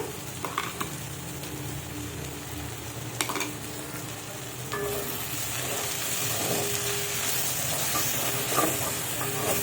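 A ginger, garlic and dried and green chili paste fries with melted tomato and onion, making a continuous sizzle with stirring scrapes that turns into a louder, hissier fry midway through.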